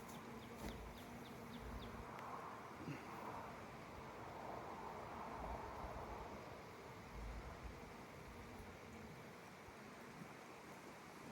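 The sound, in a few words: honeybees buzzing during beehive inspection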